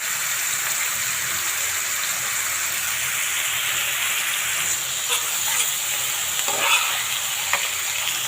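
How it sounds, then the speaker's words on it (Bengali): Onions sizzle and crackle in hot oil as they fry to brown, a steady close hiss with occasional sharper pops and stirring scrapes toward the end. "পেঁয়াজটা বাদামি রঙের ভেজে ভাজা হয়ে গেছে"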